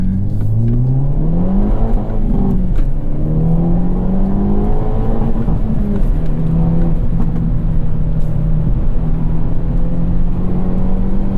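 A 2022 Hyundai Elantra N prototype, a front-wheel-drive sedan, accelerates hard, its loud engine note climbing through several gears with brief drops at each shift, steady and close with no talking.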